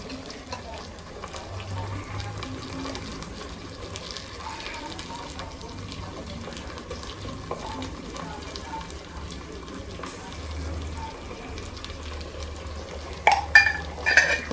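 Ginger garlic paste mixed with turmeric frying in a pan for chicken pulao and curry makes a soft, low sizzle under scraping stirs, with louder clatters near the end.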